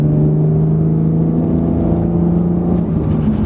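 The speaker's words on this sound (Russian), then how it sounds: "Звучит там двигатель идеально, особенно с этим выхлопом" Steady, loud engine drone with a deep exhaust rumble and a low tonal hum, heard from inside a BMW 330 E46 accelerating, holding fairly constant.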